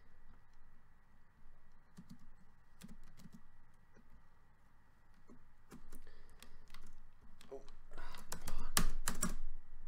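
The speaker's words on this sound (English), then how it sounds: "Really need to get my keyboard fixed." Someone types on a faulty computer keyboard, with scattered quiet clicks and short bursts of keystrokes that grow louder toward the end, mixed with speech.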